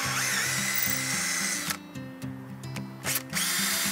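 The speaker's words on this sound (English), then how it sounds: "now we're gonna drill the four holes out" A power drill bores holes in a boat helm during a Bennett Auto TrimPro trim tab installation with Lenco actuators, its motor whining in steady stuttering bursts with brief pauses between runs, close and fairly quiet.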